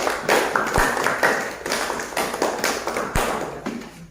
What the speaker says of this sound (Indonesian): Jadi kita tepuk tangan untuk kelompok 3.